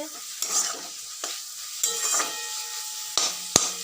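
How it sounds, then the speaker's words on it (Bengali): Chicken frying with onions in a pan gives a steady close sizzle, with several sharp scrapes and knocks of stirring spaced through it; no one speaks. "দেখুন বন্ধুরা কি সুন্দর লাল লাল করে ভাজা হচ্ছে"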